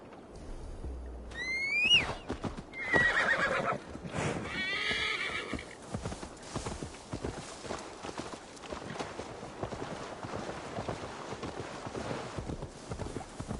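A horse in Assassin's Creed Valhalla whinnies loudly near the start, followed by snorting and a steady clip-clop of hooves walking over ground that continues fairly quietly to the end.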